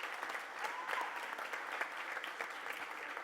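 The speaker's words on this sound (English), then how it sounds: "A round of applause for our faculty members." A graduation crowd applauds faculty members at a 2017 senior graduation ceremony, with steady, dense clapping throughout, moderately distant and even, with no voices over it.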